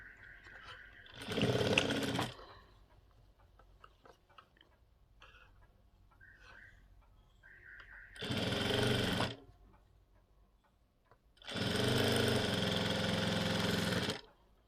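A sewing machine stitches the belt onto a four-tuck blouse in three separate runs: a short burst, a second brief run and a longer steady run of about three seconds, with quiet pauses between them.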